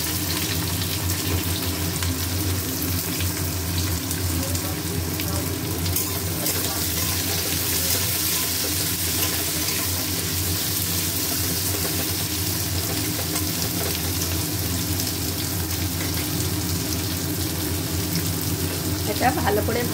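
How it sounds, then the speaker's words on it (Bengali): Onions frying in hot oil in a wok (kadai), giving a steady, dense sizzle that runs close and continuous throughout. "কড়াইয়ের তেল গরম হয়ে গেছে, এবারে দিচ্ছি পেঁয়াজ।"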